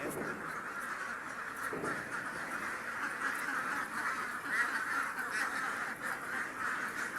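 Duck quacks sound fairly near in a rural yard, mixed with general outdoor noise, and a person talks at moments.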